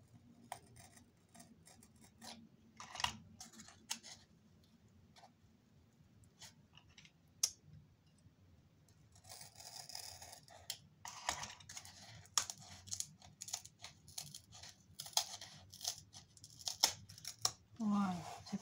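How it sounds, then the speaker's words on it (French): Scissors snipping off a small leftover piece of a paper craft structure, heard as a series of sharp close cuts and clicks with handling noise, and a person talking at times. "Et le petit bout qui reste, on le coupe."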